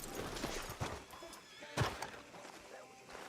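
Horse whinnying in a video game, a loud neigh rising midway amid clip-clop hooves and faint background chatter.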